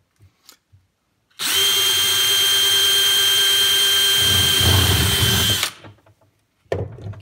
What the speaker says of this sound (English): So we need a 1/2 inch drill.